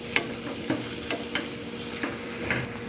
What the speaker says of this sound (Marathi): शिमला मिरची, थोडीशी तेलावर परतवून घ्यायची।